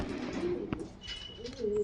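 A female Kaldam pigeon coos after drinking water. Low, throaty coos sit close and fairly quiet over a soft background hum.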